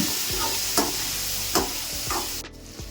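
Onions and tomatoes frying in a pan while a spoon stirs them, close and steady: a constant sizzle with several sharp scraping strokes spaced roughly a second apart, no voices.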